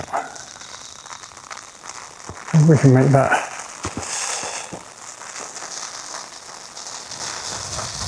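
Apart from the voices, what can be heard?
rain shower falling outdoors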